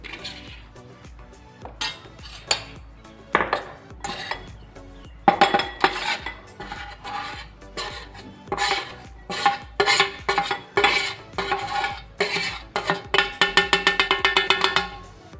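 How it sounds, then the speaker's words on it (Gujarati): Kitchen utensils clink and knock against a bowl as sifted flour is tipped in while preparing a sweet mango-pulp snack batter, with irregular bursts of metallic taps that turn into a fast run of clinks near the end. "હવે આ જે ચાળેલો લોટ છે એને આપણે એક બાઉલમાં લઈ લઈશું"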